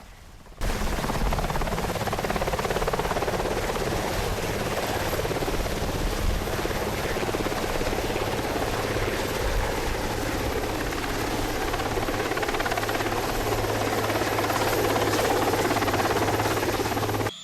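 A Westland Sea King anti-submarine helicopter runs with a loud, steady rotor and turbine roar that fills the whole stretch without pause.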